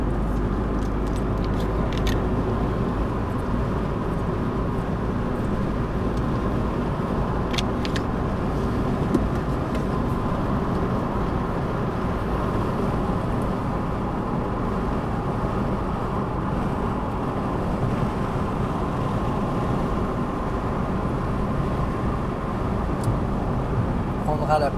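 A learner driver's car accelerates while merging onto an expressway, its engine and road noise forming a steady, loud drone throughout. People talk over it inside the car.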